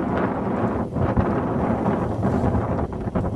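Cold winter wind at about minus fifteen degrees blows hard against the microphone, a loud rumbling buffet that surges and eases, with no voices.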